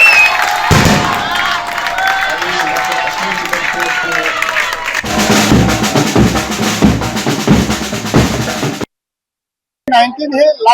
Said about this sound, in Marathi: विरारच्या बोळिन्समध्ये बँड वाजवत फटाके फोडत जल्लोष साजरा झाला